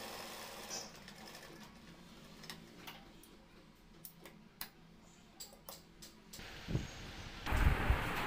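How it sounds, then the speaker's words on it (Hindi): A sewing machine double-stitches a pocket on black cloth, giving faint, quiet ticking stitches and soft clicks, then a louder run of the motor near the end. "ऊपर सिलाई डबल सिलाई डालेंगे, अलग अलग नहीं पड़ना चाहिए।"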